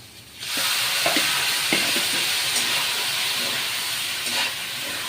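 Sago pearls being stirred and roasted in a hot pan over a fairly high gas flame for sabudana khichdi, giving a steady close sizzle and hiss with a few light scraping stirs.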